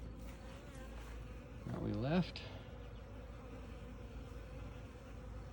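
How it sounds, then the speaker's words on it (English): Bees cleaning excess honey from comb buzz softly in the background, with one louder bee passing close for about a second before fading; a voice speaks briefly. "We'll just let the bees continue to clean all the excess honey"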